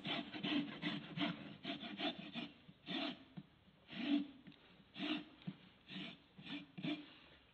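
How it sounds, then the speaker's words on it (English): A hoof casting is cut across the front hoof wall in a steady run of close, rasping, sawing strokes, repeated about once or twice a second with no talk over them. "To remove the casting, we suggest cutting it across the front hoof wall."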